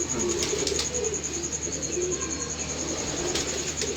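Racing pigeons coo softly in a loft, their low burbling calls layered over a steady background hum and a few faint chirps.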